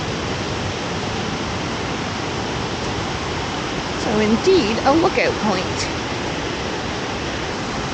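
Waterfalls in a Croatian national park roar as a broad, constant rush of water from some distance, with a person speaking briefly over it partway through.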